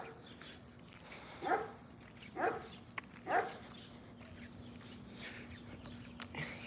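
A dog barks three times, evenly spaced and moderately distant, over a quiet background hum, followed by softer scattered noises.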